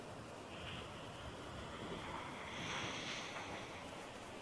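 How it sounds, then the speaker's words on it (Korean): Faint steady wash of ocean waves breaking on the rocky Jeju coast, a soft continuous roar mixed with wind noise and no voices. "파도 소리 미쳤다."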